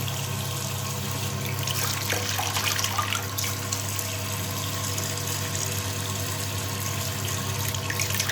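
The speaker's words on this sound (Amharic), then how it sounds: "አሁን እንግዲህ ስታጠብ ያሳያችሁ ማለት ነው።" A tap runs steadily and loudly, water splashing continuously into a basin, with brief bursts of splashing as hands scoop water to wash a face.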